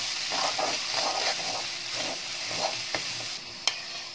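Chicken masala sizzles steadily in a hot pan while a spoon scrapes and stirs it in repeated strokes, close and clear, ending with a couple of sharp taps.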